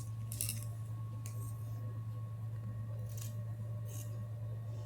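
Scissors snipping through fabric while cutting out a garment's front piece, a few short crisp snips spaced apart over a steady low background hum.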